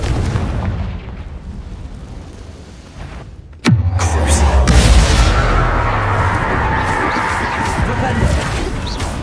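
Confringo spell explosion in the video game Hogwarts Legacy. A single sharp, loud blast strikes after a quieter stretch and is followed by rumbling, crackling debris that holds loud for several seconds.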